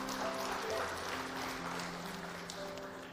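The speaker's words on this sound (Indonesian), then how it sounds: "Oke, tepuk tangan." Church congregation applauding during a sermon, steady clapping at moderate level with a faint sustained tonal hum underneath, no talk over it.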